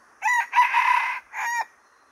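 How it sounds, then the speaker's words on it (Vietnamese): A decoy rooster taken out for cockfighting crows nearby, loud and clear. It gives one full cock-a-doodle-doo in three distinct parts: a short opening note, a long drawn middle and a final phrase, then quiet. "Đây con gà em nó cũng gáy các bác ạ."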